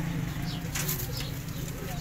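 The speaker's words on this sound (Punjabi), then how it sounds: "ਇਹ ਦੇਖੋ ਮਾਸ਼ਾਅੱਲਾ ਕਾਲਸੀ ਦੇ ਕਬੂਤਰ ਠੀਕ ਆ" White Kalsi pigeons, a domestic breed, coo low and steadily at close range, with bursts of wing flapping midway and a person talking over the birds.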